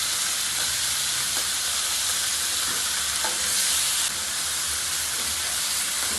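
Lomo saltado stir-frying in a hot pan with tomato and soy sauce, giving a loud continuous sizzle and hiss with a few faint scrapes of stirring, steady throughout and with no talk.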